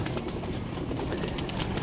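Pigeons take off in a flurry of wingbeats, a dense rapid flapping close by with a faint coo mixed in.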